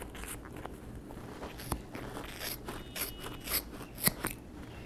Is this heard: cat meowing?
no